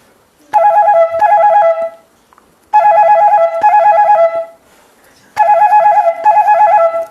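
A bansuri bamboo flute mimics a ringing telephone, with three bursts of rapid warbling trills separated by pauses, loud, close and with no other sound.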